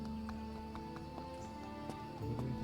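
Horse hooves clip-clop in steady, evenly spaced beats in the video game Travellers Rest, heard alone over a constant low game hum.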